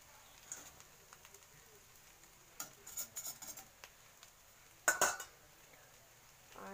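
Rice being mixed in a pot, heard as faint spoon scrapes and a few soft metallic clinks in an otherwise quiet room.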